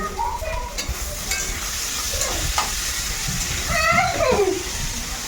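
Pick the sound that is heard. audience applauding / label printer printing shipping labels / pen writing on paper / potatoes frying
potatoes frying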